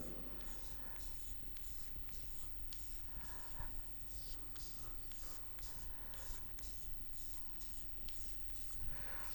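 Marker or chalk drawing a crystal packing diagram during a chemistry lesson on simple cubic AA arrangement, a steady run of faint scratchy strokes across the board with no talking over it.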